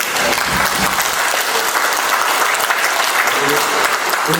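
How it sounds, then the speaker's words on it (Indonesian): Sustained applause from an audience at an Indonesian community national working meeting, steady dense clapping throughout at a loud, even level. "Mari kita tepuk tangan untuk ini."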